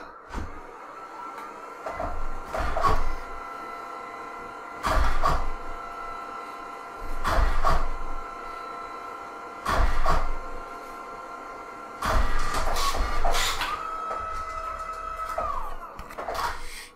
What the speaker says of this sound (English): now send it to the printer